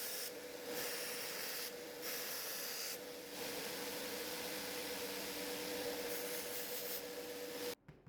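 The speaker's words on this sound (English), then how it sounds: "I also use the upper part of the grinder, where the belt is more flexible, to soften this transition" Steady abrasive hiss and rub from a belt grinder working a heat-treated knife blade, continuous for several seconds with brief dips, then cutting off abruptly near the end.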